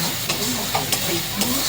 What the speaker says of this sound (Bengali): এবার সব মশলাগুলো একটু ফ্রাই করে নেব।